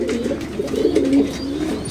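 French meat pigeons of first-generation stock, including red and grizzle birds, coo in a steady, low murmuring chorus close by, with overlapping throaty rolls swelling and fading throughout.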